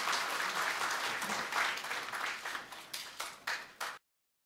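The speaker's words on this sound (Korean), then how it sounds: "여러분들 김용화 교수님 박수로 맞아 주시기 바랍니다." An audience at a National Assembly policy forum seminar applauds to welcome a professor, with brisk close clapping that thins to a few scattered claps before stopping abruptly.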